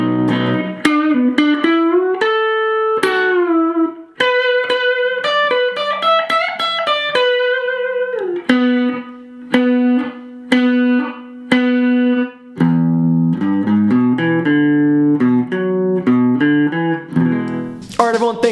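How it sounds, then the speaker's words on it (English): Electric guitar playing a solo with a rough, searing distorted tone, a continuous run of bent and sustained notes and quick phrases, loud and close with no talking. "So the whole solo will sound like this."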